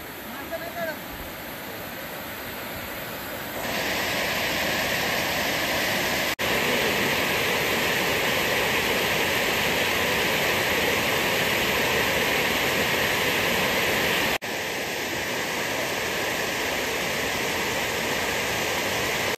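Dhodhani waterfall near Panvel roars as a loud, continuous broadband rush of falling water, growing fuller after the first few seconds and holding steady, with no voices over it.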